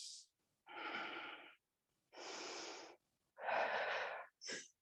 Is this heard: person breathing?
yes